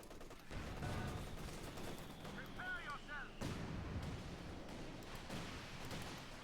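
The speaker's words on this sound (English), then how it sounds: "Just continuing bombardment here." Repeated artillery shell impacts and gunfire rumble steadily through a Company of Heroes 2 battle between Wehrmacht/OKW and US/British forces, dense and loud throughout, with a brief whistling sound near the middle.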